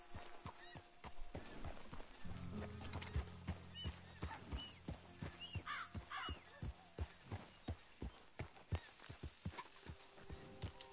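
Horse hooves clip-clop at a steady riding pace in the Red Dead Redemption 2 video game, a rhythmic run of soft thuds that grows clearer toward the end, with crows cawing in the background.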